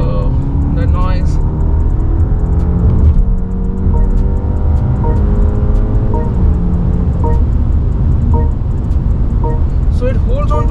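A 2024 BMW 5 Series accelerates hard at speed, holding its gear. The engine drones loudly and steadily from inside the cabin, overlaid with road and wind noise throughout.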